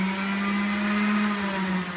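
A Panasonic MJ-DJ01 juicer motor whirs at high speed on its second setting, with a steady, loud humming drone and a slight rising pitch, running continuously.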